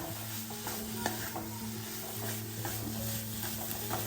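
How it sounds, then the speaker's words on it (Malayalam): Banana goes into sweetened coconut in a pan and is stirred, producing a quiet, low sizzle with soft intermittent scrapes of a spoon over a faint steady hum. "ഇനി നമുക്ക് എടുത്തു വെച്ച പഴം ഇതിലേക്ക് ചേർത്ത് കൊടുക്കാം നന്നായി ഒന്ന് ഇളക്കി കൊടുക്കുക"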